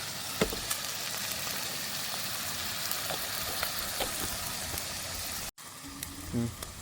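Onions and fennel seeds frying in a pan, a steady bright sizzle that keeps going throughout, broken by a brief cut near the end, with faint clinks of stirring.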